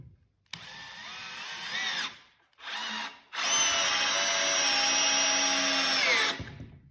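A Bosch GSR 12V-140 drill/driver drives a trim head screw, whining loudly in a short burst, pausing, then a brief second burst and a long sustained run of steady motor whine that cuts off at the end.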